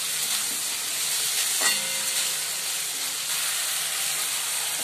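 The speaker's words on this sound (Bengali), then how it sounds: "আদা বাটা দিয়ে দেবো, একটু কষিয়ে নিই" Ginger paste and tomato sautéing in a pan for a sago khichdi give a steady sizzling hiss with light stirring scrapes throughout, one brief louder clink near the middle.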